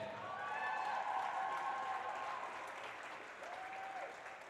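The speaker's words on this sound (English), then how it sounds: "Big round of applause for Adriana Levesque." A crowd at a girls' high school hockey game applauds a senior player, a steady and fairly faint wash of clapping heard from a distance in an arena, with a faint tonal sound rising and falling.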